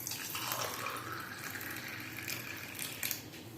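Hot water pours steadily into a cup with lemon in it, a continuous close splashing stream that rises slightly in pitch as the cup fills, with a small clink near the end.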